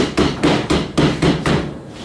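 Hammer knocking down protruding nail heads on wooden greenhouse shelves: six evenly spaced, sharp close blows in steady rhythm, no talk.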